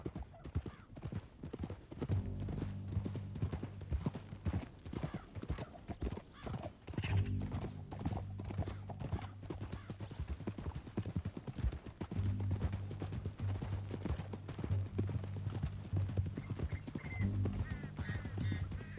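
Video game horses' hooves clatter in a steady rhythmic gallop throughout, with occasional horse whinnies and faint voices in the background.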